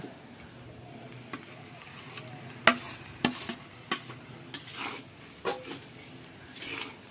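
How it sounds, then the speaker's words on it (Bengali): Mashed taro and coconut being stirred and fried in a pan, with a spoon scraping and tapping the pan in scattered clicks over a soft sizzle, close and fairly quiet. "এবার এটাকে নারকেলের সাথে ভালো করে ভেজে নেবো"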